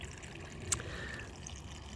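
Water trickles steadily through a small gutter model, a faint, continuous low babble with one brief click.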